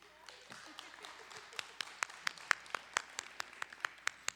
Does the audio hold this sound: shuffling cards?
no